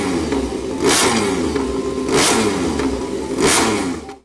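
MotoGP racing motorcycle engine revs in three sharp, evenly spaced bursts over a rough mid-pitched drone, loud and close, with no talk.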